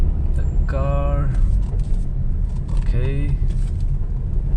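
A jeep rolls along a coastal beach road at Payyambalam beach in Kannur, its engine and tyre noise a steady low rumble throughout, with someone talking over it.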